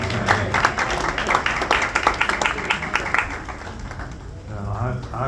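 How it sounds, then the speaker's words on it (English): An audience at a Mount Hermon Missionary Baptist Church missionary society event gives a short burst of clapping for a speaker, fairly close and mixed with voices before it thins out. "Give her a round of applause."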